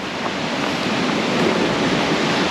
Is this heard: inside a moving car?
no